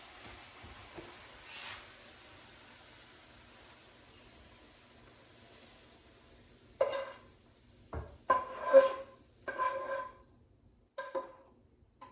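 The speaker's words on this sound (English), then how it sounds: "now I'll remove them from a frying pan into a serving dish" After a quiet hiss, a handful of metallic scrapes and clinks as sautéed bean sprouts are shifted from a frying pan onto a serving dish, close and intermittent.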